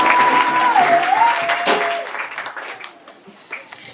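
A church congregation claps together in a dense burst that fades over a few seconds, a voice briefly sounding over the start of the applause.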